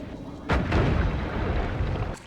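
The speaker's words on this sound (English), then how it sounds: "Oh great, a bomb." A bomb goes off in the pixel-physics game Noita: a sudden loud blast whose rumbling, crackling debris carries on for well over a second, with a smaller burst near the end.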